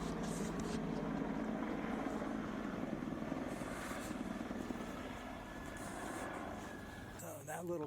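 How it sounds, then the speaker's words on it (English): A helicopter flies over an old South Miami neighborhood, its steady, loud rotor-and-engine roar filling the whole stretch before easing slightly near the end. "Helicopters, and it's a noisy town"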